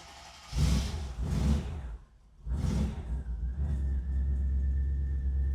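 A 400HP Wolf vehicle starting up, with a loud surge of engine noise, a brief dip, then another rise settling into a steady running rumble with a faint whine.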